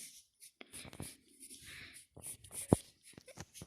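Pen drawing a sketch on paper, short scratchy strokes in scattered bursts, close and fairly quiet, with a sharp tap partway through.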